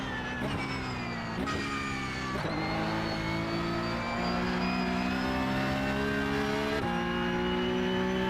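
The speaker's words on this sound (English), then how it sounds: "The car sound feels old. Yeah, it's definitely it's a bit synthesized," Porsche Cup race car engine in iRacing, a loud, somewhat synthetic-sounding drone that climbs in pitch through the gears, with several sharp shift drops early on and another near the end.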